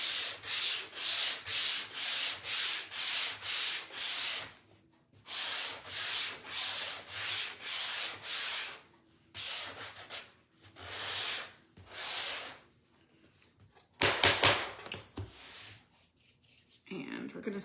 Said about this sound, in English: let's go ahead and sand this lightly